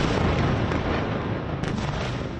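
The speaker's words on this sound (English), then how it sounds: "A series of explosions heard in Tel Aviv and near Jerusalem today" Rumbling explosions from an Iranian ballistic missile barrage hit Tel Aviv and near Jerusalem, heard as a dense, continuous roar of booms that fills the whole stretch, with no voices.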